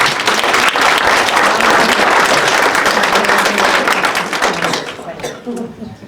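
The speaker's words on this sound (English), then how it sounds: "So please give a round of applause for Julianna Klein." Applause at a Hall of Fame induction ceremony, a loud, dense burst of clapping from the audience that holds steady and then tapers off near the end.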